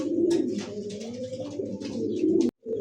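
Pigeons at a pigeon market coo close by in a continuous, throaty, warbling murmur, with a brief dropout just before the end.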